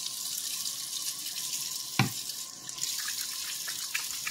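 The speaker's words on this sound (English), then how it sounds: "I'm going to wash my hands at this point." Water runs from a kitchen tap while hands are washed under it, a steady close rush broken by a sharp clunk and a brief change in the flow, with no talk.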